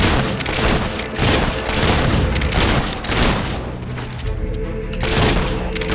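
Battlefield gunfire in Fable 3 pops and booms in rapid, overlapping bursts, loud and close, with heavier thuds mixed in and the barrage thinning slightly toward the end.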